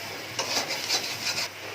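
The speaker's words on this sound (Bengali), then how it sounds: "ভালো করে ডিমের সাথে দেখো সবজিগুলো দিয়ে ভালো করে ভাজা ভাজা করে নিচ্ছি" Egg and vegetables are stir-fried in a pan for a masoor dal dish, with a soft sizzle broken by a few close bursts of spatula scraping.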